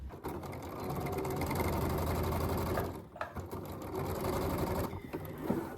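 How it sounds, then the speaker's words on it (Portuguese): A sewing machine runs steadily, stitching a one-centimetre seam in fabric, its close, even mechanical whir holding throughout with a brief slowdown near the middle. "agora eu vou levar na máquina, faço uma costura de 1 centímetro nessas duas partes"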